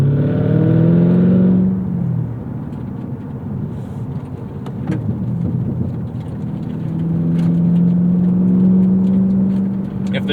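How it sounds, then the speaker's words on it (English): 2024 Cadillac CT5-V Blackwing V8 revving loudly with a deep rumble, then easing off into a lower drone before building again, close and alone. "They want you to really hear that engine note"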